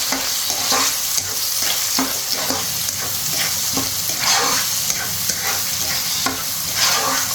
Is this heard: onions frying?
yes